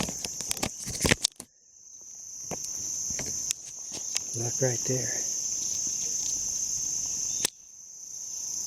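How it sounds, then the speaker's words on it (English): Wasps buzzing around a nest outdoors at a lake campground, a steady high insect drone running throughout with scattered rustles and clicks, while a person speaks briefly partway through. "Whoa, there's all kind of wasps here."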